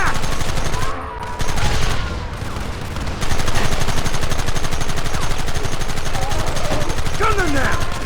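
A sustained, loud fusillade of gunfire in Red Dead Redemption: dense overlapping shots with a short lull, and voices shouting through the battle.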